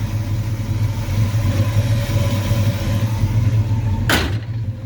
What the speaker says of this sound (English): back to the engine running underneath the hood